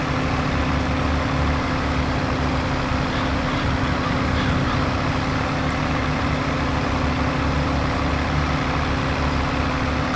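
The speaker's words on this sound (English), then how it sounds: "I'm just getting used to my new tractor" A new farm tractor's engine runs steadily at idle, a constant low rumble with a continuous mechanical drone and no breaks, fairly close and alone without talk.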